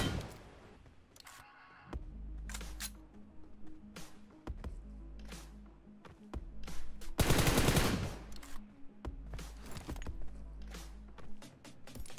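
BGMI mobile battle royale firefight with UMP and other weapons: rapid automatic bursts and single shots crackle in repeated volleys, loud and close, with short pauses between them.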